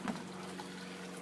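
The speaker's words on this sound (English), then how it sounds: "the water simply drains over to another 55-gallon drum" Water draining into a 55-gallon drum at a growout pond: a faint, steady trickling wash with a small splash at the start, low and continuous with no voices.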